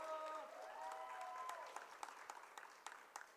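Applause for a senior player at a college volleyball senior night in a gym, fading from a steady crowd clap into scattered individual claps while an announcer's voice carries over the start.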